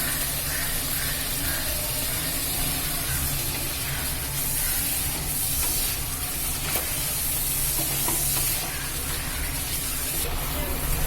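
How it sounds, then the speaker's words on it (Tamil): Brinjal sautéing in a pan with ground masala and turmeric gives a steady, close hiss and sizzle throughout, with faint stirring scrapes and no talking. "இந்த கத்திரிக்காய் இங்கே வதங்கட்டும்ப்பா"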